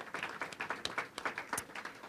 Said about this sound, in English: Can we just give them a quick round of applause?